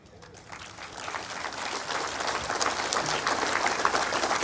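Audience applause at an outdoor birthday barbecue celebration, clapping that swells from quiet to a sustained, fairly distant roar of many hands.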